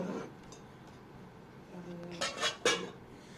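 Plates handled at home, a few ceramic clinks and clatters near the end, close and moderately loud against a quiet room.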